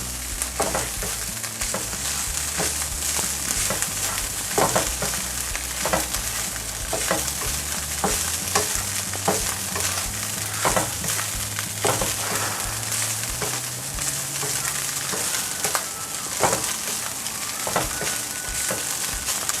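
Hamburger sizzles and fries in a pan as it browns, with a constant crackling hiss and a spoon or spatula scraping and stirring through the meat in irregular strokes.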